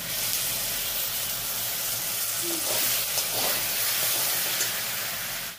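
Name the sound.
spice paste sizzling in oil while cooking cabbage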